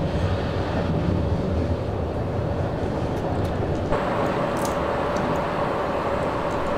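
A passenger train in Train Simulator 2015 near Augsburg Hochzoll rumbles steadily with a broad, continuous rolling roar, loud and close throughout, with no one talking.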